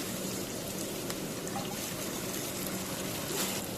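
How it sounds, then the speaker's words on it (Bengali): Water is poured into a pan of fried onions, giving a steady, continuous pouring and trickling hiss close by, with no talk. "পেঁয়াজটা ভাজা হয়ে গেছে, এখন একটু পানি দিয়ে দেবো।"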